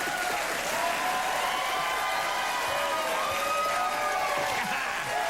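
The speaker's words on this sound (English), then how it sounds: "The crowd is going nuts for the Michael Jackson joke." A TV comedy show's studio audience claps and cheers in a steady, loud wash of applause that carries on without pause.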